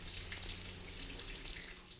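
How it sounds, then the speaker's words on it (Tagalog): Water dripping and trickling inside a limestone cave where stalactites and stalagmites form, a soft, steady wet patter with a few faint drip ticks over a low hum, heard alone. "Patuloy ang patak ng tubig na nagiging daan para makabuo ng stalactites at stalagmites."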